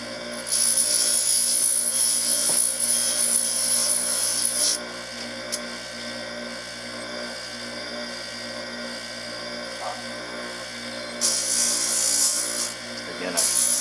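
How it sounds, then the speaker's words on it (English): A bench lathe runs with a steady motor whine while a denture tooth is trimmed against it, bursts of high grinding coming and going over the hum. "the reason I like doing this with my bench lathe, if I can, is because I can hold this tooth with two hands while I'm trimming it."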